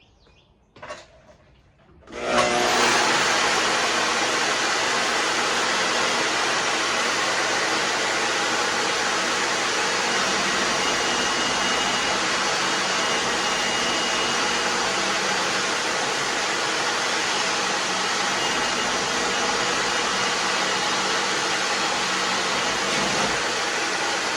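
A loud, continuous power saw cutting wood whirs steadily after a brief quiet start, its harsh broadband roar holding constant for over twenty seconds.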